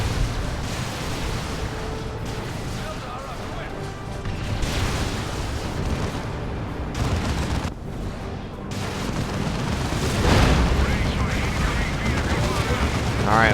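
Heavy Demolisher Cannon blasts and explosions in Dawn of War II: Retribution, booming through continuous battle noise and gunfire, with a louder burst near the end.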